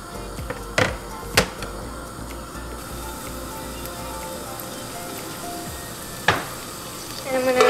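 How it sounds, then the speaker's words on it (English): Garlic sizzles steadily in a hot pan while pasta is being made, a constant crackling hiss close by, punctuated by a few sharp clacks of a utensil against the pan. "I'm going to let this sizzle up a little bit."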